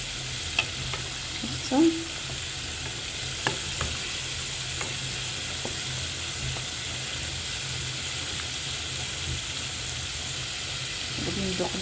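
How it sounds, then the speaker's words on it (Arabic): Chicken feet (kraïn) frying in a pan for a tagine give a soft, steady sizzle and hiss, with a few scattered clicks and stirring knocks and a brief voice early on. "صافي غادي نخليهم يتقلاو على خاطرهم يطيبوا"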